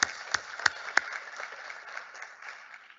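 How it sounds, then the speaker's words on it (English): Applause from an audience at an education awards ceremony, opening with a few loud distinct claps that blend into softer, fading clapping. "Give a round of applause to all of our county winners"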